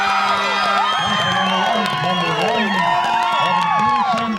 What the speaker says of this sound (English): The local fans finally have something to cheer about.